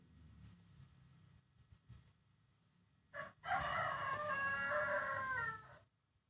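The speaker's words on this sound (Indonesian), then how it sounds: "backsoundnya adalah suara ayam ya" A rooster crows once in the background of a quiet indoor room, a loud, wavering call after a stretch of near silence, ending abruptly.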